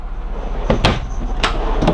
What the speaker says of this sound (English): Another drawer here.